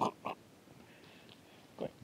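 A person imitates a pig's oink in short nasal grunts: two quick oinks close together, then a pause and a third oink, all close and alone.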